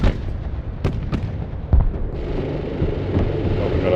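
Mortar fire in the video game Broken Arrow, with several sharp, booming thumps in quick succession over a rumbling battlefield background, followed by a softer hiss of smoke rounds.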